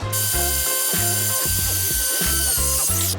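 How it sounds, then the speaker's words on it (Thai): An electric saw buzzes steadily through the whole stretch, its pitch cutting in and out in repeated pulses as it cuts vinyl flooring tile, loud and close. "ส่วนอันตรงๆเนี่ยผมจะใช้ตัวใบเลื่อยไฟฟ้าครับเพราะว่ามันจะตรงกว่า"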